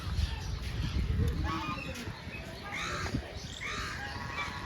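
Crows cawing at Kankaria Zoo in Ahmedabad, harsh calls rising over outdoor background noise while someone talks throughout.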